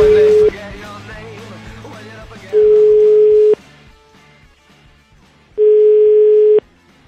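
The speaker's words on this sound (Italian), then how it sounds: "Facciamo una telefonata ad Algero per capire come sta" Telephone dial tone while placing a call: three steady, loud pure-tone bursts, each about a second long, separated by quieter gaps with faint background sounds.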